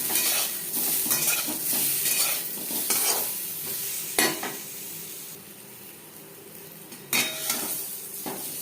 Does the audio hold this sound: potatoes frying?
yes